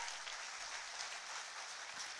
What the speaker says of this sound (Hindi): तालियां आपकी ओर से जोरदार हो।